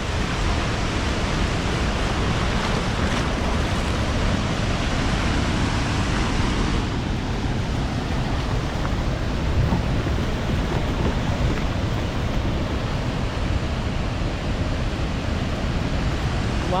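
Chitrakote waterfall in Bastar pours huge volumes of water, producing a constant, dense, loud roar with no breaks and no voices over it.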